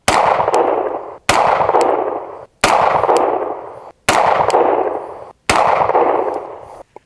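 Five loud, sharp pistol shots from a Viper/PSA Dagger handgun fired at a target, evenly spaced about every second and a half, each a crisp crack with a long ringing decay.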